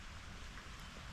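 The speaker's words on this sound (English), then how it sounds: "this rain's amazing." Steady rain falling outdoors and hitting everything around, a dense, even hiss of drops on surfaces with no gaps, fairly loud and close.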